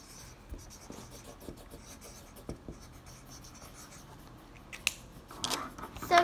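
Pen scratching across paper while writing a short message, soft and close with small strokes and taps, louder rustling toward the end.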